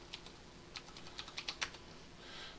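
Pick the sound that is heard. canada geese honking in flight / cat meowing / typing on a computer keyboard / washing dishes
typing on a computer keyboard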